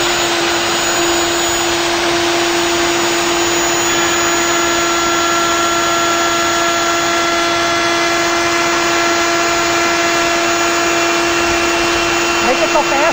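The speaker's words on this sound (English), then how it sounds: "Now this is backward than how you want to run the router" A router cutting a wavy seam while run in reverse produces a loud, constant high whine with steady tonal lines, unbroken for about thirteen seconds, with a brief clatter near the end.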